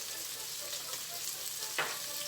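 Chopsuey vegetables sautéing in a pan, a soft continuous sizzle with faint stirring scrapes and one brief louder clink near the end.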